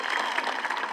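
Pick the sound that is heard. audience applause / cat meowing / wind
audience applause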